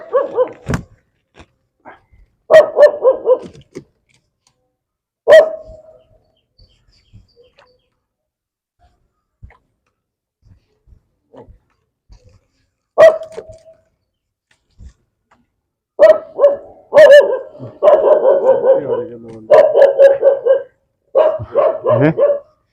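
A household dog barks in short bursts and clustered volleys separated by long quiet gaps, close and loud outdoors, with a few faint clicks in between.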